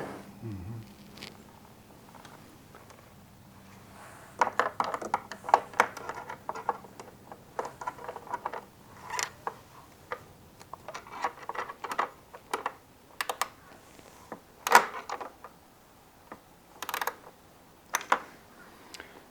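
A ratcheting 10mm spanner turns a headlight bolt on an Aprilia motorcycle, giving quick bursts of close, light ratchet clicks with short pauses between them.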